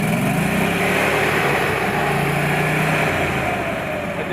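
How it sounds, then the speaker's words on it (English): The engine of a mobile welding truck jumps up into high idle with a loud, steady, close motor drone that sits alone throughout. "it jumps up into high idle just like this"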